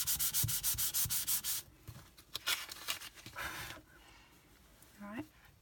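An embossing buddy rubbed over white cardstock gives quick, rhythmic scratchy strokes, loud and close, then lighter rubbing and handling noises, with a voice briefly audible near the end.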